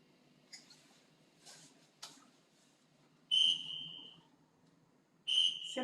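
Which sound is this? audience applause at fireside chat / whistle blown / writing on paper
whistle blown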